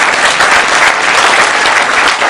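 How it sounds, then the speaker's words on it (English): Steady, loud applause from a large audience, a continuous wash of clapping with no talk over it. "Hey, don't clap for that."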